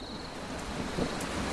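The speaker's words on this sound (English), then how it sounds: "Wow, listen to all that rain come down." Heavy rain pouring down in a South American rainforest, a constant, dense hiss of drops striking foliage and surfaces, moderately loud and steady throughout with no voices.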